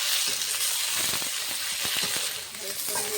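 Fried fish is tossed in a pan with onion and garlic, giving soft sizzling under quick scraping and clinking strokes of a spatula, close and moderately loud.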